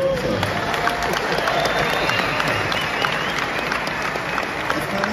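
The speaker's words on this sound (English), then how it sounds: "Biggest applause I'm going to get today" A large audience applauds steadily at the AWS Summit Madrid 2024 keynote, a dense wash of clapping with some cheering mixed in, sustained and loud throughout.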